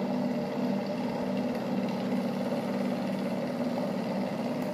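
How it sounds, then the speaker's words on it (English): A BLDC motor runs on a homemade 3-phase controller, giving a steady, even drone with a low tonal hum that holds constant throughout, with no talking. "Now I am going to test the motor"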